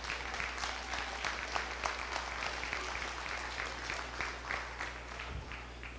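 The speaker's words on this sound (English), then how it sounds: "give these exhibitors a big round of applause" A crowd at a county fair sheep show applauds steadily, a dense patter of many hands clapping at a moderate distance, with no voices standing out.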